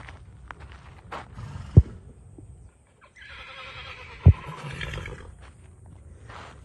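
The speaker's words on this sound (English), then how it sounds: "Let's go find that dang donkey." A donkey at a barn on farrier day brays and snorts in short bursts, with a couple of sharp knocks and shuffling hooves nearby, fairly faint against the quiet barn.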